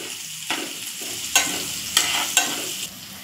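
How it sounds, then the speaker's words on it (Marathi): A spatula scrapes and stirs soaked sago pearls through a hot tempering in a pan, several sharp clinks against the metal over a steady sizzle. "आपण आता ह्यांना सगळं मिश्रण परतवून घेणार आहोत"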